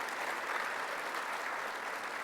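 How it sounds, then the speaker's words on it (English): A crowd at a public event claps steadily for state senators, a dense, even round of applause that holds at the same level from start to finish with no voices breaking through. "Let's give them a round of applause"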